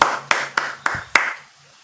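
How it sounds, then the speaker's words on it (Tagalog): A single pair of hands gives five sharp claps, spaced about a quarter second apart, at a political commentary about housing for informal settler families, then stops, leaving a faint low hum. "palakpak naman dyan"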